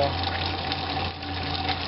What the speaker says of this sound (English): I know I shouldn't be splashing it